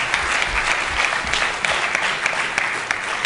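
Dense, lively audience applause at a skeptics' workshop, close and loud with many hands clapping at once, sustained evenly throughout.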